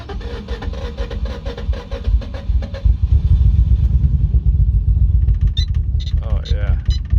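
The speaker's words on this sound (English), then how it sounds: "I'm pretty sure I just blew the motor" A Nissan 350Z drift car with a blown motor, its timing belt guides failed, makes a rough, low, clattering engine rumble that grows louder midway and keeps going, with a voice speaking over it.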